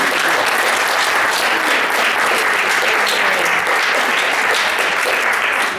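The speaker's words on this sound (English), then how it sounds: "that's a round of applause" A conference audience applauds loudly and steadily, dense clapping from many hands sustained throughout and close up, with no speech over it.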